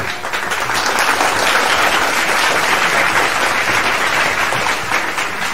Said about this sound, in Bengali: সকলকে করতালি দিয়ে তাদেরকে অভিনন্দিত করার জন্য অনুরোধ করি